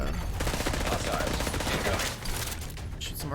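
Rapid gunfire from The Division 2, dense close bursts of shots that run almost continuously, with a voice talking over part of it.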